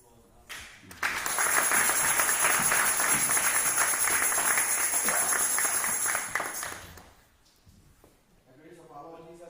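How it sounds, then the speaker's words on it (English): A church congregation breaks into applause for a visiting district minister: a sudden burst of clapping that holds steady for several seconds, then fades away into quiet. "I'll pray you that you all give him applause"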